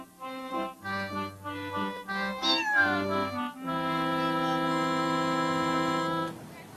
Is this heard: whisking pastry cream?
no